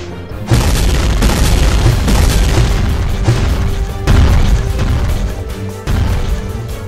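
Booming gunfire explosions in Sakura School Simulator, several loud heavy blasts in a row, each with a sharp onset and rumbling tail, close and dominant.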